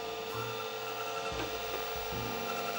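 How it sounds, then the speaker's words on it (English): Old Datavue Snap 1+1 laptop hard drive working while copying a large batch of files, giving a steady whir with low mechanical buzzing and faint irregular clicks and ticks, close and unbroken, with no talk. "That's the sound of a hard drive working that shouldn't be working."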